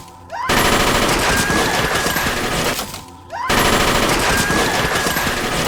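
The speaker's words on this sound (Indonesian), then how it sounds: "Dengan sangat brutal, si badut menembak semua orang dengan senjata Thompson hingga semua mati dengan mengenaskan." A Thompson submachine gun fires continuous loud automatic bursts in a film scene, two long sustained volleys separated by a brief pause, harsh and close.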